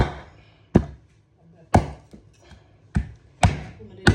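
A knife chopping a sea bass in half and through the head on a board for rice porridge: five or six sharp, loud thuds at irregular intervals with quiet gaps between.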